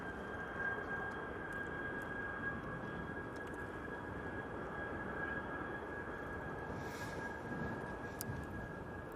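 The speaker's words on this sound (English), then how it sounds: "going to get some proper tones off this Jet 2 now" Jet2 airliner engines at Manchester Airport give a steady, continuous roar with a sustained whine, loud and unbroken throughout with no talking.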